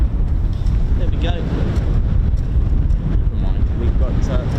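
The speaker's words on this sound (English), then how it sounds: "Definitely a bit more windy out here, isn't it?" Strong wind buffets the microphone at the open-air RAF Holbeach air weapons range, a constant low roaring rumble that fills the whole stretch with no clear voices.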